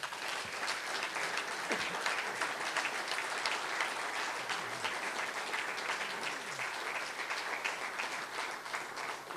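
Applause for volunteers at a press conference launching a regional national holiday festival, a thick, steady patter of many hands clapping that keeps a level, fairly distant sound for about nine seconds, with faint voices mixed in.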